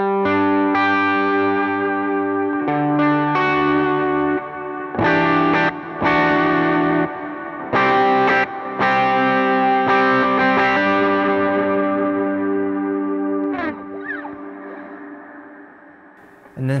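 Electric guitar run through a Timmy overdrive pedal on an HX Stomp board, crunchy driven chords with choppy stops and restarts, then a long ringing chord fading out at the end, with no voices.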